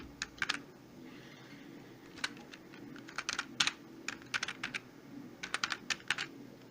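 Names being typed on a computer keyboard: sparse clusters of crisp, close key taps separated by pauses over a low steady background hum, with no speech.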